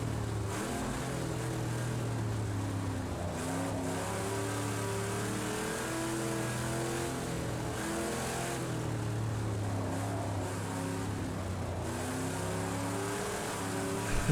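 Chevy Camaro Z28, a late-1960s Trans Am racing car with no traction control, in the Project Cars 2 racing game: a loud, steady engine drone with rising and falling rev sweeps as it shifts through gears, continuous and alone.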